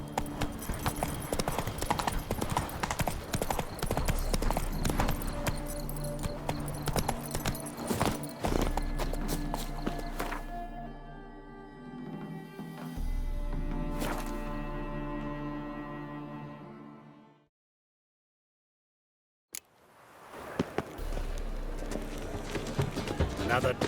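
Horse hooves clip-clop steadily at a gallop in The Witcher 3, loud and continuous with game music and ambience underneath, then break off into a brief silence before resuming.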